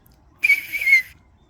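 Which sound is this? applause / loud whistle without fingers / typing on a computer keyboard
loud whistle without fingers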